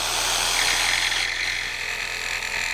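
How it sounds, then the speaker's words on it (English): A jigsaw cuts a notch into the end of a wooden stair tread, giving a close, loud, continuous power-tool whine and rasp that holds for a few seconds with no talking. "We're using a jigsaw to make a notch at one end that will fit into the notch on our stair treads."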